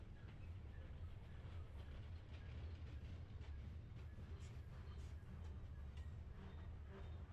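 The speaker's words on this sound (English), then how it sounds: "But this is a big train." A big freight train rumbles past at a distance at Cajon Pass, a steady low roar with faint rhythmic clatter throughout.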